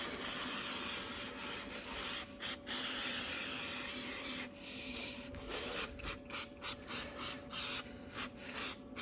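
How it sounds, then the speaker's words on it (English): An aerosol cleaner hisses onto Kawasaki ZXR750 motorcycle brake and wheel parts in long sprays, then in a string of short rhythmic bursts, each a close, bright, broadband hiss over a faint steady hum. "Spray it, let that stuff soak in, and then once it's soaked in, you spray it again."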